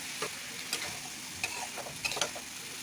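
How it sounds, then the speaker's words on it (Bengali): Boiled peas and fried potatoes are stir-fried in a pan, a low steady sizzle with a few sharp clicks and scrapes of the spoon against the pan, close and without talking. "এখন সেদ্ধ করা মটর দিয়ে দিলাম। ভেজে রাখা আলু"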